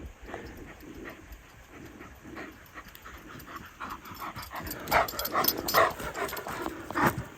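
Dog panting in quick, breathy bursts, growing louder toward the end, with some faint rustling and background noise.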